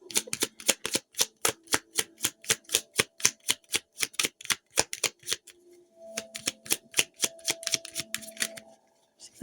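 Rapid riffle shuffles of playing cards, a run of crisp fluttering bursts in quick rhythm, pausing briefly before another series, close and clear with no talking.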